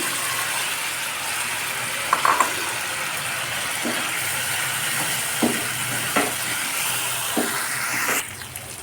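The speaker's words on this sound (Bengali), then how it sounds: "কষানো হয়েছে ভেজে রাখা আলু এবং ডাটা দিয়ে দিচ্ছি" Fried potatoes and vegetable stalks go into a pan of spiced, sizzling oil, a constant close hiss broken by a few sharp clicks and knocks of a spoon against the metal.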